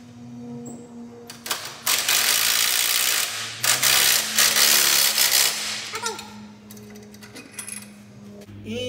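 Socket ratchet with a 21 mm socket tightening a suspension bolt on a Jeep JL during a Rough Country 3.5-inch lift kit install, giving bursts of rapid clicking strokes up close, with pauses and metallic handling between them.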